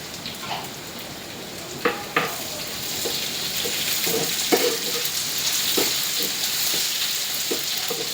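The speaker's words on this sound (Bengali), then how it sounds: "এটা হলো শুকনো মরিচ দিলাম। তেলটার মধ্যে শুকনো মরিচের ঝাঁজটা দেবো আর গ্রানটা দেবো। একটু ভাজা ভাজা হোক" Dried red chilies fry in hot oil as a tempering for potato dal, making a steady crackling sizzle with scattered sharp pops and a few spoon taps close by.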